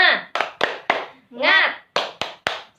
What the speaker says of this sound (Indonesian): kita tepuk semangat dulu ya, biar semangat